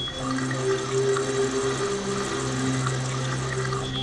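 A container steadily filling with water inside the Buried in Time game, a continuous close rush of running water with a humming drone beneath, holding even for about four seconds with no talking.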